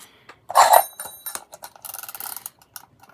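A timer starts with a bright, ringing chime-like tone, followed by a run of light, quick mechanical ticks and clicks that patter irregularly and then thin out, fairly close and with no talking.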